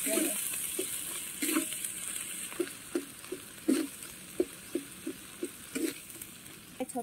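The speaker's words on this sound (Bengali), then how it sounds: "ভাজা হয়ে গেছে মশলা" Turmeric and chili powder spices fry in a pan on a new village clay stove, a faint sizzle punctuated by a rhythmic series of light spatula scrapes and taps roughly every half second.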